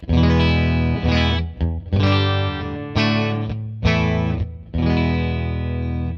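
A heavily distorted guitar through a buffered fuzz pedal plays sustained chords, each struck hard and left to ring thickly before the next, loud and saturated with no talking.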